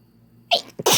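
A woman sneezes with a strong burst followed by a second sharp sneeze, loud and close, after a quiet moment.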